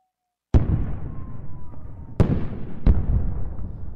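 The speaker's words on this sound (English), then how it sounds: "You can only get this uh, by dropping nukes, which I'll demonstrate right here." Three sharp booming blasts from atomic bomb nukes dropped in the WorldBox video game, each a sudden loud crack trailing into a rumbling decay, spaced irregularly over a few seconds.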